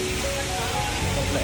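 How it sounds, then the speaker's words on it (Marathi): A monsoon waterfall at Malshej Ghat in Maharashtra gives a steady, dense rushing roar that carries on without a break from start to finish. "मस्तपैकी एक धबधबा भेटला आपल्याला खाली"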